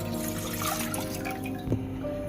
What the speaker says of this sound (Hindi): पैन में पानी डालेंगे जो कि 3 कप था।